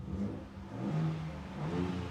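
A 2023 Ford Ranger Raptor 3.0 V6 revs up in switchable exhaust mode and settles in a steady, throaty drone, rising again toward the end, close by with no talking.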